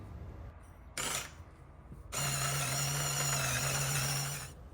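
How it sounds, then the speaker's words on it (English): Electric grinder grinding coffee beans for espresso: a short burst of whirring, a pause, then a steady loud mechanical grind lasting a few seconds before cutting off, with no talking. "With the beans now weighed and prepped, we're going to go ahead and throw them in our grinder. We're using an electric grinder"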